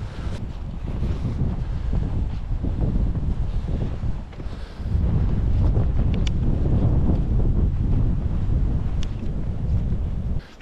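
Strong wind gusting across snowy hills in the Malé Karpaty mountains, a loud, continuous roar buffeting the microphone, dipping briefly before surging back.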